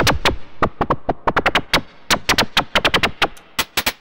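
Sharp bursts of synthesizer noise are clipped through a Black LPG low-pass gate, giving an irregular stream of short, bright, percussive ticks and pops, loud and close with no voice.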